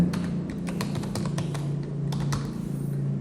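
JavaScript code is being typed on a computer keyboard in a rapid, irregular run of close, crisp key taps over a low background hum, with no one talking.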